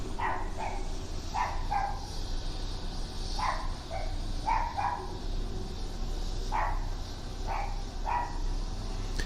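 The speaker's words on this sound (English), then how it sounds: "Whoever's recorded this has got the little dog going." A small dog barks in short paired yaps from a played recording, repeating in clusters over about nine seconds, thin and somewhat distant over a steady background hum.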